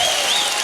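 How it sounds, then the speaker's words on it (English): A StarCraft 2 grand final audience bursts into a short, loud wave of clapping and cheering, with a few whistles cutting through the dense applause. "this audience is really good. They will cheer to everything."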